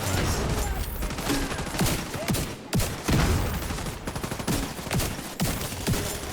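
Rapid gunfire from the Division 2 video game, dense overlapping bursts of shots with loud sharp cracks repeating throughout, near and intense.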